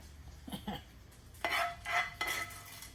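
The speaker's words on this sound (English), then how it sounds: "go ahead and spoon in your meat or your vegetable stir fry" A spoon scrapes and clinks against a dish as meat or vegetable stir fry is spooned in: two soft scoops, then a few louder scraping strokes, close and quiet, with no talking.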